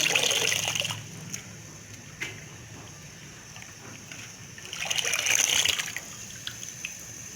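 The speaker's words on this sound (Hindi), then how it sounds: "अब हम थोड़ा थोड़ा सा साग लेके इस बर्तन में धो लेंगे अच्छी तरह से" Mustard greens are swished and rinsed in a pot of water, with bursts of splashing and sloshing at the start and again near the end, quieter dripping and light handling in between, close up.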